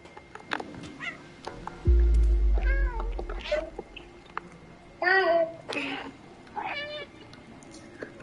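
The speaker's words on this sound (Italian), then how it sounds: "Hai sentito il gatto che miagola" Cat meows from the video game Stray come through in several clear, rising-and-falling calls spaced over a few seconds, with game ambience and a low rumble underneath.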